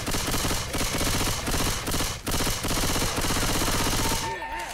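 Rapid bursts of automatic gunfire shooting zombies in the Left 4 Dead video game, loud and dense with brief gaps, ending with electronic game sounds.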